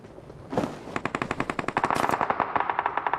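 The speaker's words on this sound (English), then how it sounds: "Oh, the action kicking off already. We can hear the gunshots." Rapid automatic gunfire in the video game PUBG during a tournament match, a burst of closely spaced loud shots in a steady rattling rhythm lasting several seconds after a single opening blast.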